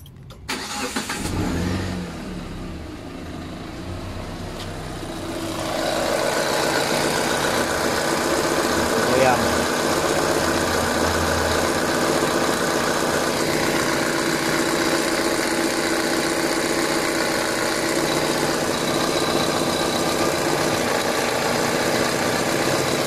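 A Proton Exora engine cranks and settles into a steady idle, a continuous mechanical hum with a faint ticking whir from a timing belt due for replacement running through it, close by.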